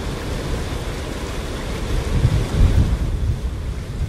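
Strong river current rushing around a bull elephant struggling in the water, a continuous loud low roar and wash with gusty surges, no voices.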